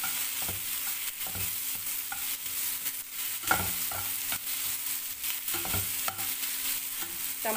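Tomatoes sizzle softly in a pan while a spoon stirs them, with repeated scraping strokes every second or so over a steady low frying hiss, close and moderately quiet, no voices.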